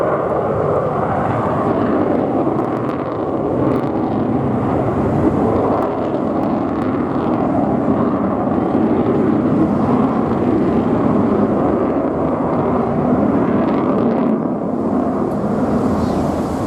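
A loud, continuous aircraft engine roar, broad and steady throughout, like a plane flying past nearby during a flying display at the Bournemouth Air Festival, with some wind buffeting.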